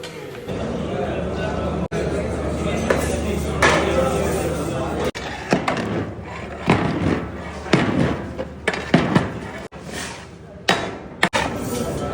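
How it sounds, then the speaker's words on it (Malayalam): Mutton biryani rice for a wedding feast in Thiruvananthapuram is broken open from its dum and stirred in a large pot, giving repeated loud thuds, knocks and scraping bursts under nearby voices. "ദമ്മ് പൊട്ടിക്കുന്ന സമയത്ത് ആ മേൽച്ചോറുണ്ടല്ലോ അതൊക്കെ ഇങ്ങനെ കുത്തി ഉടച്ച് ഉടച്ച് ഇളക്കി ഇളക്കി ഇളക്കി ഇങ്ങനെ എടുക്കണം"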